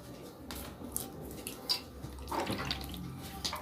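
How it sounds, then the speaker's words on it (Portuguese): A cup of warm water is poured into a bowl holding an egg for homemade pizza dough, a steady close gurgle and splash of running liquid lasting a few seconds, with no talk. "Vou acrescentar uma xícara de água morna"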